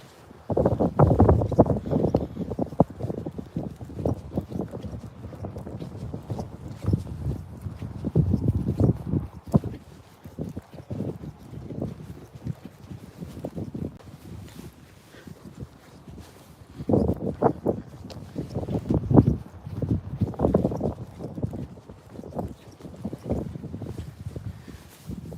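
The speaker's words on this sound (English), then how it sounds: "The cold wind on my face." Cold wind gusting outdoors at around 3 to 4 degrees Celsius during a walk, low buffeting rumble against the microphone rising and falling in gusts, with scuffing steps underneath.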